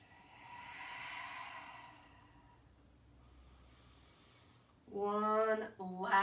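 Slow, deep yoga breaths drawn in and let out through the body, soft airy inhales and exhales close to the mic, followed by a louder breathy release near the end.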